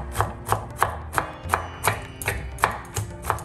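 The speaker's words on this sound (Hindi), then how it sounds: "ये देखिए फाइन पाउडर नहीं बनाना है हमें, इसलिए मैंने बोला है आप इसी तरह नाइफ लेके चॉप करें।" A knife chops roasted walnuts on a board in steady, evenly spaced strokes, about three per second, crisp and close with no voices.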